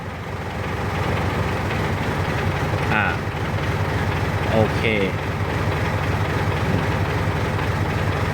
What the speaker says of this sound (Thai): เดี๋ยวฟังเสียงเครื่องยนต์นะครับ